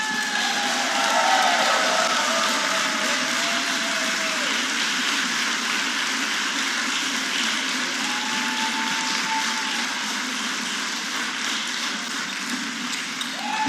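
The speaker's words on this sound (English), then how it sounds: "So a big round of applause for all the people who's been working very hard for this event." Audience at a HEMA longsword tournament final claps in a steady, even wash of applause that holds for many seconds, then thins slightly toward the end.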